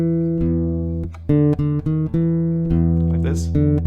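An acoustic guitar plays the simple bridge melody of a song, single plucked notes ringing out one after another in a slow, steady line, loud and close.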